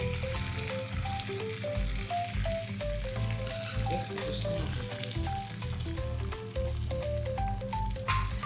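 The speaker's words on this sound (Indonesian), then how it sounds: "Terus tuang telur kocok di atas tumisannya tadi." Beaten egg hits sautéed spinach and mushrooms in a hot pan, setting off a steady close sizzle and crackle that runs throughout beneath a light melodic background tune, with occasional sharper pops.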